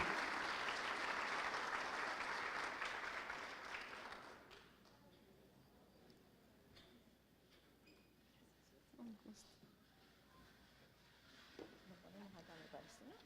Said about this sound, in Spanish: les pido por favor un fuerte aplauso para recibir esta mañana a la doctora Delia Ferreira Rubio